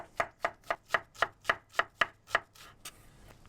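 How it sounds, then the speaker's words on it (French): Half a shallot is chopped finely with a knife on a board, giving about nine sharp, evenly spaced taps in quick succession before slowing to a couple of lighter knocks. The taps are close and clear, with no talking. "on cisèle l'échalote, une demi-échalote"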